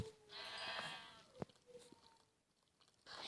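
A sheep in Minecraft bleats twice, short nasal calls separated by a sharp click and soft crunching, fairly quiet and close.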